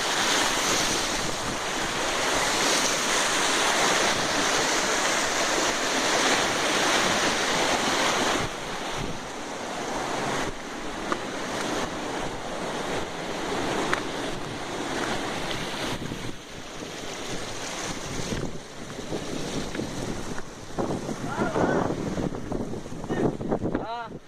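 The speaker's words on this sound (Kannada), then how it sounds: "ಇದು ಇಚ್ಚೋಟ ಫಾಲ್ಸ್." Rushing water at Ichhota Falls makes a steady, loud roar throughout, with wind buffeting the microphone.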